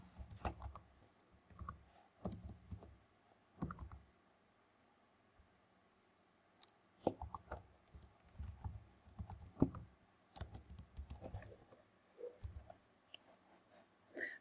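A computer keyboard clicks in quiet bursts of typing, with a pause in the middle, close and fairly soft, with no talk.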